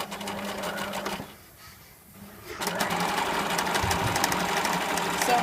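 A sewing machine stitching fabric runs steadily, stops for about a second, then resumes with a louder, even mechanical whir, with faint talk in the background.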